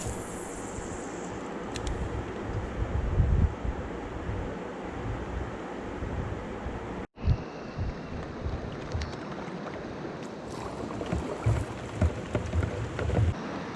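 Steady rain patters down in Algonquin Park during a Labour Day canoe trip on a winding river, a constant close hiss of drops on water and surfaces with a brief cut midway, no talking.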